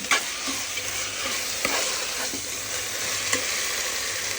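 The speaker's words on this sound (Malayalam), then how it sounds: "നന്നായിട്ട് ഇളക്കി കൊടുക്കും" Masala for chicken biryani is stirred in a hot pan, a spoon scraping now and then against the metal over a steady, gentle sizzle.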